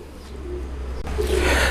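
A golden-breed pigeon at a loft in Multan gives a low, soft coo, swelling slightly louder near the end, heard close by with no talking.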